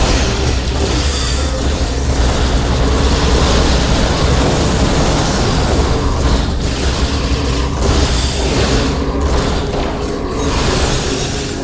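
In Star Trek Online, enemy weapon fire strikes the player's position as a loud, continuous rumbling barrage with muffled booms and mechanical roar, steady throughout with no clear gaps.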